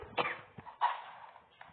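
A cough in a casual Spanish gaming session, one sharp burst followed by a weaker second cough and a faint trailing hack, close and fairly loud with no talk over it.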